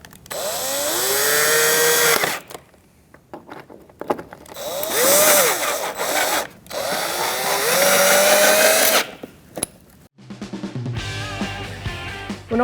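A power driver tightens the fog light bezel screws on a 2008-2014 Mercedes-Benz C300, giving three loud whirring bursts with rising pitch and short pauses between them, followed by a short stretch of music.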